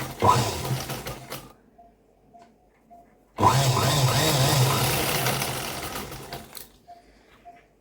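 A sewing machine stitches a fabric tassel for a blouse or dress, running in two loud close bursts, a short one and a longer one, separated by a quiet pause.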